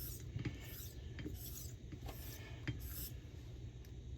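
A vintage straight razor is honed on a coticule stone, and the blade rasps steadily back and forth across the wet stone. Soft, even strokes repeat at a regular pace over a constant low background hum, with no voices.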